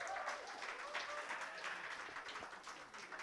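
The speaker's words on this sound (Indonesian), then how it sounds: "Tepuk tangan untuk teman-teman." Applause from an audience at a public lecture, a faint, steady patter of many hands running the whole time with some voices mixed in.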